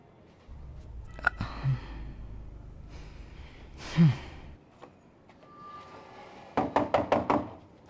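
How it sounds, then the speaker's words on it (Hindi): Knocking on a door in a Hindi-dubbed film scene: a quick run of about five sharp, loud knocks near the end, after scattered softer thumps and breaths. "मैं कब से दरवाजा खटखटा रहा था"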